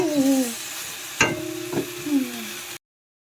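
Food frying in a pan, a steady sizzle broken by a few sharp utensil clinks and scrapes, close and moderately loud, before it cuts off abruptly.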